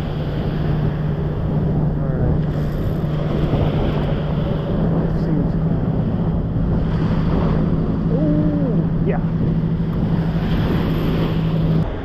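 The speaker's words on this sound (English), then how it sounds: "Oh, that's some big surf." Steady roar of ocean surf with wind buffeting the microphone, a continuous wash of breaking waves close by.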